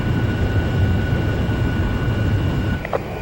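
Fighter jet engine in the Ace Combat Zero flight game: a loud, steady, broadband roar holding throughout, with a brief higher-pitched sweep near the end.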